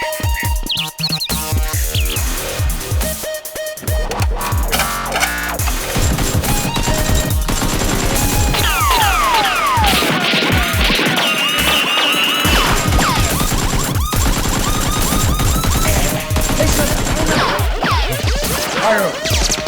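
Toy Nerf guns firing during a backyard play battle, dense loud bursts of rapid popping and clattering shots with squeaky and whooshing effects, continuous and near.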